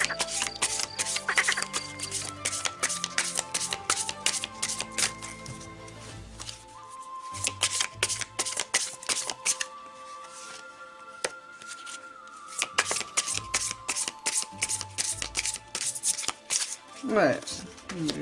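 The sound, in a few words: shuffling and drawing oracle cards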